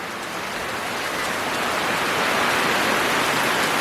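Steady unseasonal rain pours in Konkan, a dense even hiss of drops on surfaces that swells slightly louder toward the end, with no voices.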